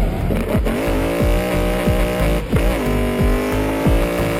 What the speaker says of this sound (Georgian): ეს დრიფტია.